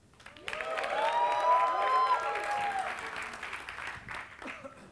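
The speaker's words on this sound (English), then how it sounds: "Cheer, boo, clap, applaud, whatever you want to do, but make some noise." A live science-communication competition audience bursts into loud, sustained applause with whistles and cheering, swelling for several seconds and then tapering off.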